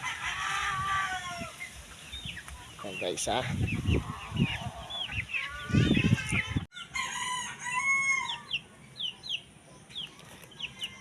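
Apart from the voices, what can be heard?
4-month-old cockerels crowing and clucking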